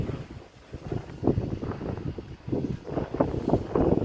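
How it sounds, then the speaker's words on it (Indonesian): Strong wind buffets the microphone outdoors at an air-rifle shooting range, a loud, rumbling, gusty roar that rises and falls throughout. "Ntar anginnya agak kencang."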